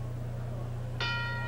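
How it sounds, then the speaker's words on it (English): A boxing ring bell clangs once with a bright ringing tone to open round 1 of a light middleweight bout, over steady low arena hum. "the bell brings him out for round 1"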